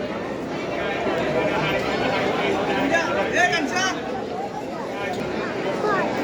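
A dense crowd queues in line at Jotiba temple, a steady babble of many overlapping voices with shuffling movement, close and continuous, people chattering throughout.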